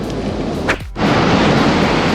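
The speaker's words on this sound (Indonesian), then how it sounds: "Enak banget ya dengerin suara lantunan apa namanya nih, ombak ya" Ocean waves breaking at Pantai Portugal beach, a steady broadband wash of surf close by with a brief dip in the roar before it swells back, with no voices.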